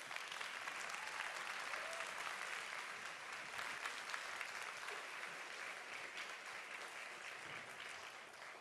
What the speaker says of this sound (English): Ladies and gentlemen, once again, a round of applause for the amazing Tang Ensemble.